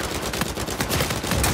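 Rapid gunfire in the video game Uncharted 4: A Thief's End, dense overlapping shots in quick bursts, loud and continuous throughout the short stretch with no talking.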